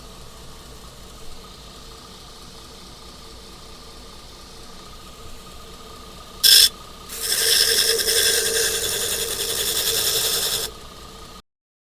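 A belt grinder rasps against knife bevels, a steady scraping roar that starts with a short burst, pauses briefly, then runs loud and continuous for several seconds over a faint motor hum before stopping.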